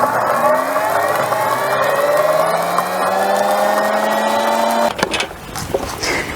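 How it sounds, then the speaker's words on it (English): Countertop blender whirring as it grinds dried tomato slices into powder, a loud steady motor whine rising slightly in pitch for about five seconds before cutting out, with clatter and rattling afterward. "Once I've got the dried slices in the blender, all I need to do is make sure that the safety lid and catch are in place and then turn the blender on."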